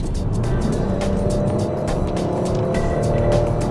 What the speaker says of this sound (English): Listen to the muted acceleration on the Buick.